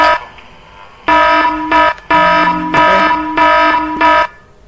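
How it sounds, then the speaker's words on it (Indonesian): An alarm sounds on a SCADA water level control system after a flow-out pump fault, giving loud repeated buzzer-like tones in several bursts of about a second each, with short gaps between them. "alarm sudah berbunyi"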